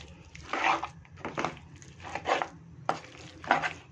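Chicken pickle ingredients stirred in a pot, heard as a series of about five wet, scraping mixing strokes in an uneven rhythm, close and fairly loud, no talking.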